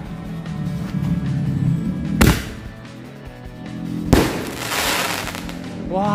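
Two sharp firecracker bangs go off about two seconds apart, set off outdoors, each a loud crack over a constant rumbling background.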